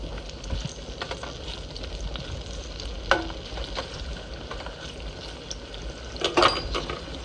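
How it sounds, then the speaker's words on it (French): Saucisson slices heat in a frying pan with a soft, steady sizzle, broken by a few sharp clinks and taps. "Pendant que nos saucissons sont en train de chauffer un petit peu"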